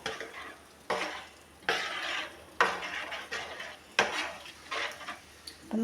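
A spoon stirs a pot of roasted-coconut sambar simmering on the stove in repeated scraping sweeps, with loud, close strokes about every second over a soft background sizzle, with no talking.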